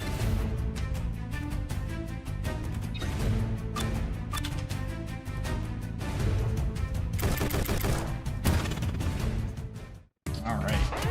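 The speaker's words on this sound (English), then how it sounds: "Stop shooting me." Rapid bursts of gunfire from the video game Fuchian Chronicles crackle loud and dense, volleys overlapping almost without pause before a sudden brief cutout near the end.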